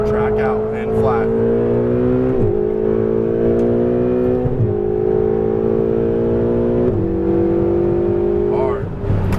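A Ferrari 488 engine revs hard on a race track, loud and close, holding a high steady pitch that drops briefly at each of several quick gear changes before climbing again.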